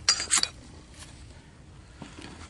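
A hammer striking up against a metal trap stake while setting a coyote dirt hole set, two sharp metallic clanks close together at the start, then a faint knock later on, with quiet outdoor background between.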